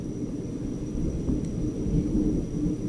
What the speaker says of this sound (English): that was some pretty loud thunder right there